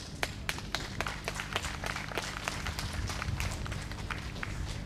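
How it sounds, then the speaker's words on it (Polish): Audience clapping for folk dance groups at the opening of a regional folk fair in Chorzelów, Poland, sharp scattered claps over a low rumbling background, fairly faint and distant. "Duże brawa dla zespołów."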